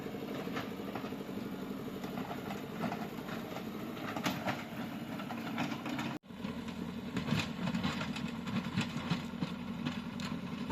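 Heavy construction machinery arrives on a hillside with two houses to build a concrete road, its engine rumbling and clattering steadily and loudly throughout, with a brief dropout midway.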